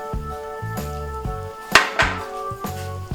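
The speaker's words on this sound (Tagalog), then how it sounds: "Mix lang ulit natin siya." A spoon clinks and scrapes against a bowl while siomai filling of minced prawn and oyster sauce is stirred, with a few sharp knocks over steady background music.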